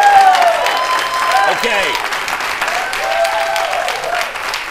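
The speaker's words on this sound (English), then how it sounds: "Audience, give a big round of applause for Carter and his mom, Linda" Studio audience applause and cheering on a talk show welcoming a ten-year-old boy and his mother, a dense steady roar of clapping filling the whole stretch, with voices speaking over it.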